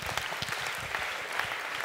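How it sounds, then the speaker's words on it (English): Brief, steady applause for Amelia from an audience at a talk on skills for the future of work, the even clapping filling the short moment with no talk over it. "Thank you, Amelia, round of applause."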